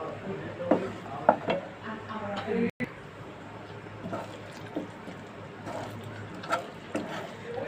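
Sesame mixture being stirred in a frying pan over medium-low heat while making sesame brittle, with soft scraping and faint sizzling strokes repeating under a steady background.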